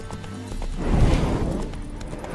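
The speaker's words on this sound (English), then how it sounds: "Spooking my horse." Horse in The Witcher 3 game, hooves clopping with a snorting whinny rising in the middle, close and steady for a couple of seconds.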